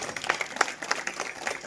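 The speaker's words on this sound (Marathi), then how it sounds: "त्याच्यासाठी एक टाळ्या वाजवा सर्वांनी।" Applause at a village Harinam Saptah devotional gathering, a short burst of scattered hand claps from an audience, uneven and moderately close with no voices over it.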